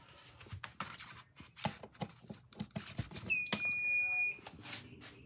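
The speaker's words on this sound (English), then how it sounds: "It has an annoying sound when you turn it on because it's an alarm." An egg incubator's alarm sounds a high, steady electronic beep for about a second when switched on, amid clicking and handling noises, fairly quiet and close.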